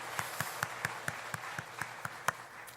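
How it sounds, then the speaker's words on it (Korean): A church congregation claps to welcome a guest, a steady run of sharp hand claps at a brisk even rhythm, fairly close and filling the room, with no talking over it. "우리 환영하면서 박수 한번 하십시다."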